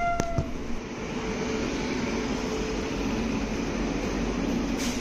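The Kondaveedu Express passenger train, running from Vijayawada toward Bengaluru, makes a steady, loud rumble with broad rail and carriage noise. A couple of short, sharp tones break through near the start, and no one speaks.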